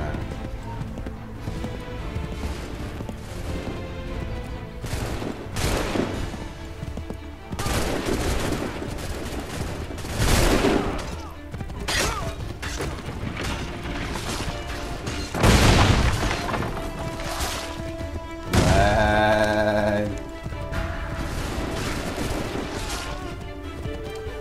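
Scattered musket shots and heavier booms from a battlefield in Assassin's Creed III, with horse hooves clopping amid the noise, several louder blasts standing out, and someone talking now and then.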